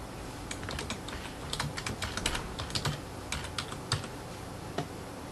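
Keys clatter on a computer keyboard as a folder name is entered, a quick irregular run of close, crisp taps with a few louder strikes, no voices.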